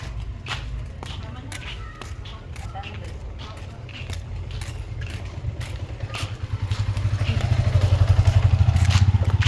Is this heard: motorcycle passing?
yes